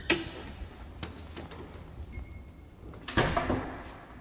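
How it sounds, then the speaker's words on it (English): A house's front door opening, with light handle clicks and small knocks followed by a louder scraping swing of the door, heard close in a quiet entry. "And we're going in the front door."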